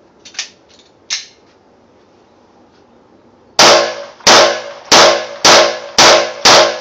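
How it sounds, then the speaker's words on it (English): An unsuppressed Glock 19 pistol firing 9mm rounds: six loud, sharp reports in steady succession, each with a short ringing decay, preceded by a few faint metallic clicks and handling sounds. "We're going to fire 9mm ammunition out of the unsuppressed Glock 19 to start with"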